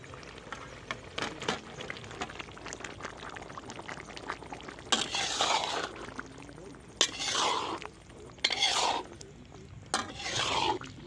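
Boiled potatoes tipped into a pan for Bhavnagar-style bhungra bateka, a few soft thumping, squishing bursts with scraping between them, interspersed with a quieter background hum.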